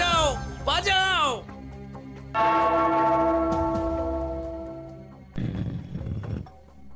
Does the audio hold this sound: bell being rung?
yes